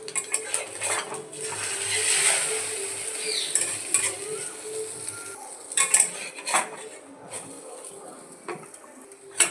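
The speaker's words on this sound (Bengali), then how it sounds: "এবার অমলেটটা বানিয়ে নেব।" An omelette fries in mustard oil in a wok on a gas stove, with close metallic scraping and clinking of a utensil against the pan over a steady sizzle, with no talking.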